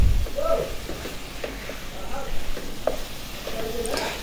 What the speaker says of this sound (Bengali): এটা ভালো করে কষিয়ে নেব মশলার সাথে।